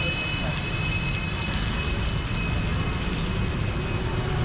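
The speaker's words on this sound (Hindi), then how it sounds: "ये देखें जी बहुत तेज़ बारिश हो रही है।" A dense, steady roar of heavy rain in Fatehpur pours down without letup, loud and close, filling the whole stretch.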